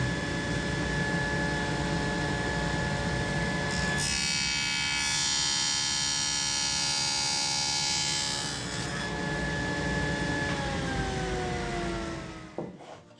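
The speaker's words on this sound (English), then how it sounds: "And we're going to cut this dado here now" Steady whine of a power saw running, then a harsher, louder cutting noise for several seconds as the blade cuts a dado into a wooden blank for a box joint jig, before the motor winds down.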